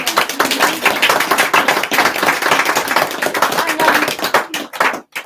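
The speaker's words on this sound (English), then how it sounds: "A big round of applause for our good friends at Hyper Gallery" A small audience at an artist Q&A claps in a brisk, fairly close round of applause with individual hand claps audible, fading out near the end.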